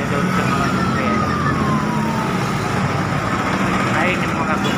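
Fire engine sirens wail at a building fire in Taytay, Rizal, the rising and falling tone heard at a distance beneath loud crowd noise and a voice talking close by.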